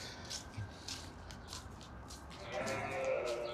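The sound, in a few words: sheep and baby lambs bleating at a farm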